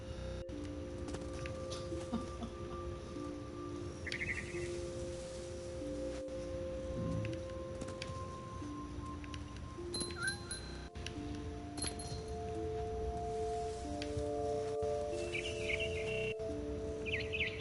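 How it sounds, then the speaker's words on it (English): Birds chirp in the video game What Remains of Edith Finch, scattered high calls over steady tonal game music and ambience, moderately close and clear, with no talking. "Get that bird! Get that bird!"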